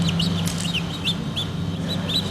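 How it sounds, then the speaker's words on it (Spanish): Chicks peep in repeated short, high chirps over a steady low background hum, close and fairly loud with no talking. "Bajo la apariencia enternecedora de estos pollitos"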